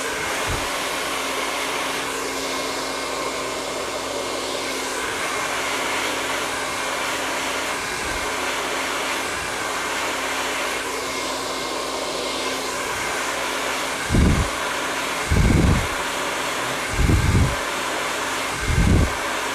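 A hair dryer blows steadily on very wet, soaked curly hair, a loud continuous rushing roar. Several short thumps and bumps come near the end.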